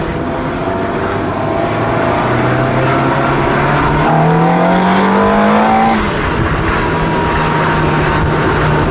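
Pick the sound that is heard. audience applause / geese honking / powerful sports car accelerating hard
powerful sports car accelerating hard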